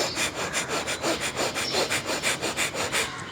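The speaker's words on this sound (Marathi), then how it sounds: "तर ब्रीथ आउट करण्याचा जो साऊंड आहे ना तो आलाच पाहिजे" Forceful bhastrika yoga breathing through the nose: a rapid, steady train of noisy, rasping breaths, roughly five strokes a second, close and loud with no talking.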